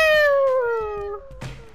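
A cat in the video game Gang Beasts lets out one loud, drawn-out meow that slides downward in pitch, followed by a short burst of game noise.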